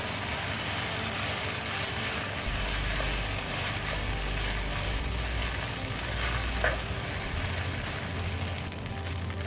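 Singaporean rice ingredients fry in a pan and are stirred together, a loud, constant sizzle close by with faint scraping from the stirring, heard alone with no voices.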